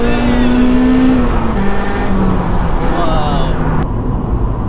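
A Honda EP3 Civic Type R with a straight-piped exhaust fitted with a silencer revs hard under acceleration, its rising engine note climbing and dropping through shifts before cutting off abruptly near the end.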